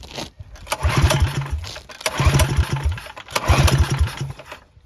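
A small engine on a budget minibike cranks with the choke on, making three rhythmic sputtering pull-start attempts in a row, loud and close, without catching.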